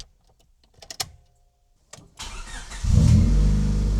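An EK Honda Civic hatchback engine cranks and starts after a few clicks, then settles into a steady idle, close and fairly loud, with no talking.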